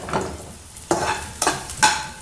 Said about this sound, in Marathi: मिरची टाकली. कांद्याला आपण चांगलं असं परतून घेऊया.